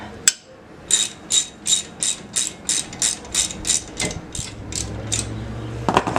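Ratchet wrench loosening a front brake caliper bolt on a 2006–2011 Honda Civic Si, a steady run of about a dozen crisp, close clicks at an even pace, with a sharper metallic knock at the start and another near the end.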